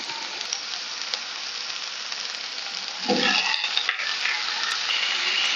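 Onions fry in a pan for chicken curry with a steady hiss; partway through, tomatoes drop in with a scraping stir and the sizzle grows louder and more crackly.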